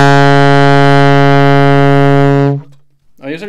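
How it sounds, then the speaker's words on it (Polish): Saxophone sounds its lowest note, small B, as one loud, steady, buzzy tone held about two and a half seconds before cutting off, followed by a brief bit of speech. "jeżeli chodzi o najniższy dźwięk, to będzie to B małe na saksofonie i brzmi mniej więcej tak."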